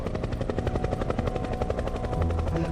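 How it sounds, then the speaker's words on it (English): Loud, steady rotor chopping of a helicopter, a fast pulsing thump over a constant engine roar, close overhead. "A helicopter?"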